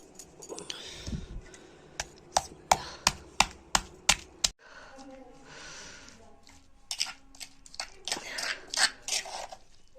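Soaked ingredients pounded before frying, a row of sharp, evenly spaced thuds near the start, then a pause and a looser cluster of knocks and scrapes, close and fairly quiet, with a voice heard briefly.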